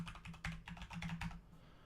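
Close, quiet typing on a computer keyboard as a username and password are entered, with a quick run of clicky keystrokes for about a second and a half and no talking.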